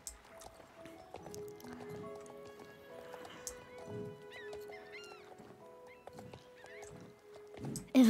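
Horse hooves on a beach in the online horse-riding game Star Stable Online, soft clip-clop steps at a relaxed pace under faint game ambience and melodic chimes.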